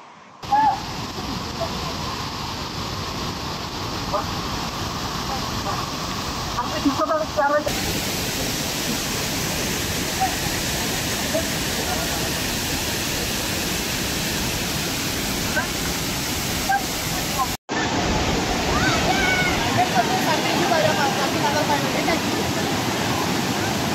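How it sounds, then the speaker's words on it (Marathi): Steady, dense roar of Nitwade Waterfall in the forest fills the whole clip, loud and close, with a brief cut near the end before the rushing continues. "काय होते धबधबा आलाय"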